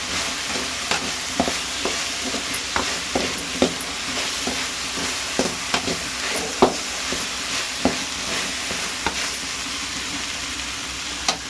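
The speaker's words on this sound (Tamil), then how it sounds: "நாம வெண்டைக்காய் வதங்கிடுச்சான்னு போய் பார்க்கலாம்" Okra sautéing in a hot pan, a steady sizzle with repeated scraping clicks of a spatula stirring it, close and continuous without speech.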